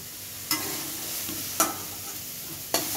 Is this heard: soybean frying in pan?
yes